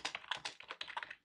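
Rapid typing on a computer keyboard, a quick irregular run of close, crisp key clicks lasting about a second and then stopping, with no voices.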